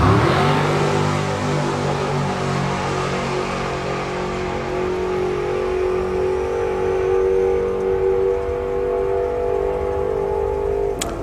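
A Ford Mustang drag car runs down the strip at a hot rod drag racing event, its engine note loud and sustained before slowly rising in pitch and fading into the distance.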